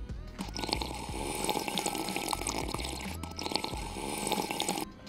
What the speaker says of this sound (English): Let's drink some water, take 4 big sips with me.